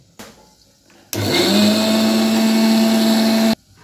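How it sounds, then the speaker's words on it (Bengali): A mixer grinder whirs loudly and steadily for about two and a half seconds, grinding grated coconut with spices, then stops abruptly; a faint clatter comes just before it starts. "এবার চলুন নারকেলটা পিষে নিই।"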